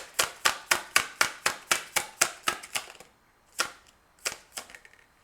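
Tarot cards drawn from a deck, a rapid run of about ten crisp, close flicks and slaps, then a short pause and a few slower, scattered snaps.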